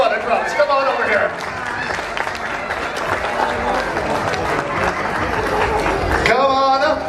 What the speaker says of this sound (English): Give Cheryl a round of applause.